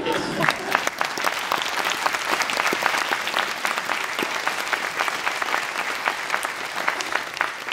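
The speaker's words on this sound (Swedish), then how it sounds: "Han är värd en stor applåd." Enthusiastic applause from the audience at a New Year's concert by Hässleholm's town band, a thick wash of clapping with sharp individual claps standing out, continuing evenly for several seconds.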